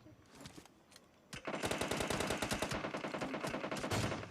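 Rapid automatic gunfire rattles out in a battle royale game, a dense burst of evenly spaced shots running steadily after a quieter opening, loud and close.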